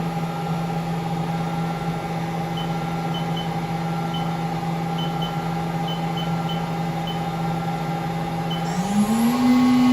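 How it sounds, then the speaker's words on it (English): Air compressors hum steadily in a machine shop beside a 2016 Haas DM-2 CNC vertical machining center, a constant droning tone with a faint rising whine near the end. "Just our compressors running in the shop."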